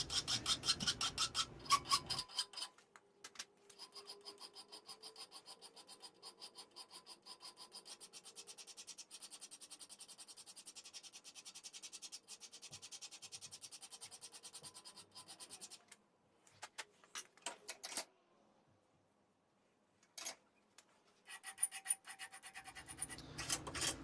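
Steady rhythmic rasping of a hand file stroking across a forged steel knife blade, repeated strokes for most of the clip, pausing briefly near the end before resuming.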